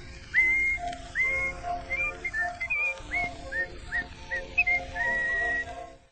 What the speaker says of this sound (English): he's happy when he whistles this tune